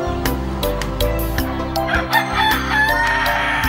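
A free-range village rooster crows close by against a steady, dense background hum with rhythmic thumping, and no voices are heard.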